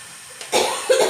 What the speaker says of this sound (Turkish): Birkaç gündür zaten hep öksürüyorum